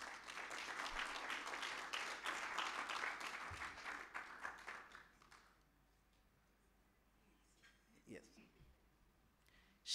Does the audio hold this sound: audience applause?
yes